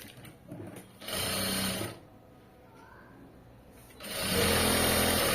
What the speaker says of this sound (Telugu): ఇలా స్టిచ్ చేసుకుంటూ వచ్చేయటం